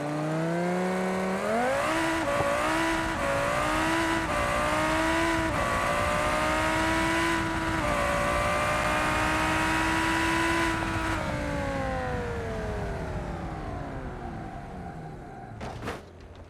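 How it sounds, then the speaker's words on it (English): A drag-spec car with nitrous in BeamNG accelerates hard, its engine note climbing steadily through long rising pulls with brief dips at gear changes, loud and close, then fading and thinning out near the end. "There's also a drag spec of the car, complete with nitrous"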